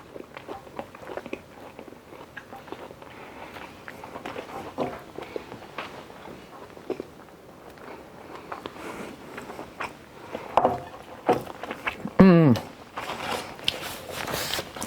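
Someone bites and chews a slice of homemade PSMF bread, with quiet crunchy bites and chewing scattered through the clip, a sharper burst near the end, and some faint background movement.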